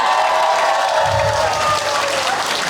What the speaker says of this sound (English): Give a round of applause for all single moms out there.